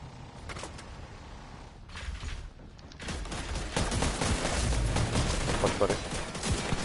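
Sustained gunfire from a raid firefight in the video game The Division 2, a dense continuous fusillade of rapid shots that grows louder and fuller partway through, with a few brief pauses early on.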